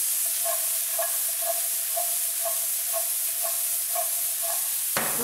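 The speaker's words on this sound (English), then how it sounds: "Peppers and onions, they fry very well together." Orange peppers fry in a pan with a steady, loud hiss throughout, while faint regular ticks recur about twice per second and a sharp knock lands at the very end, with no talk.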